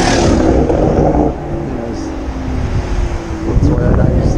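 A Toyota 86 sports car passes on a harbourside street at Barangaroo in Sydney, its engine note rising and falling over steady wind buffeting the microphone and broad traffic rumble.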